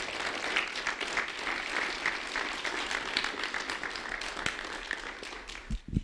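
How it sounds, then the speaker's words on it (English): Sustained applause from an audience at a school ceremony honoring kids, steady crowd clapping throughout with dense texture and a few louder claps near the end. "Can we have a round of applause for these amazing kids?"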